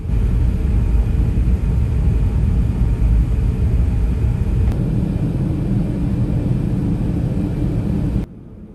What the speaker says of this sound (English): we make a number of turns to head southeast towards New Zealand.